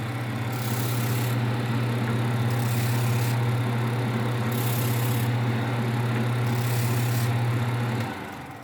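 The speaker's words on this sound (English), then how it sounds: "So you can hear this side sanding ever so slightly less." A Flatmaster drum sander fitted with 220 grit runs on its own with a steady, loud low hum and a rhythmic pulsing hiss, then spins down near the end.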